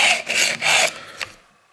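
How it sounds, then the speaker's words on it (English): Knife blade drawn lightly through a carbide pull-through sharpener, giving three harsh rasping scrapes in quick succession, then a short fainter stroke before it falls quiet. "It sounds horrible because of the carbide sharpeners."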